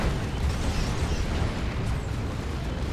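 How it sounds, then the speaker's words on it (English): Dense, continuous rumble of battle explosions and heavy cannon blasts from an Executioner Cannon Leman Russ tank in the Dawn of War 2: Retribution strategy game, loud and unbroken with no talk. "there's that Executioner Cannon Lehman Russ"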